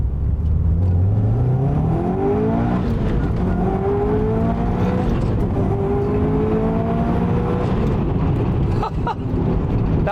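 A Subaru WRX STi S204 engine pulls hard in first gear, its pitch climbing steadily toward about 7,700 RPM, then holds a loud, busy drone through several upshift steps, recorded up close with no talking.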